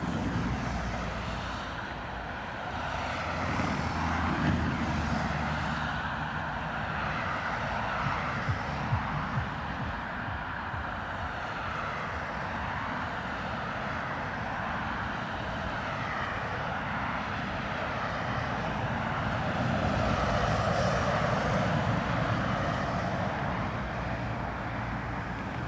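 An ATR turboprop approaching Dublin Airport from Aberdeen in a crosswind drones steadily for the whole stretch, a continuous engine hum that rises a little toward the end, with no voices.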